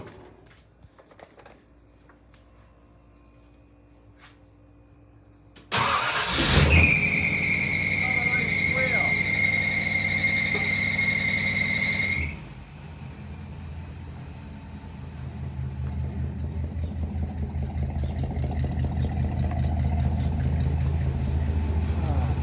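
A Ford 292 Y-block V8 with a vintage air bracket cranks and fires after a quiet lead-in, a loud high alternator belt squeal screeching over the engine for several seconds before dying away into a steady idle.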